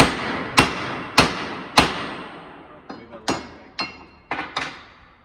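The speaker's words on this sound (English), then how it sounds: "So I'll grab a hammer, we'll pound those out." A hammer pounds king pins out of a Ford half-ton truck. Eight or nine sharp metallic strikes land in an uneven rhythm, each ringing briefly. They are close and loud with no talking.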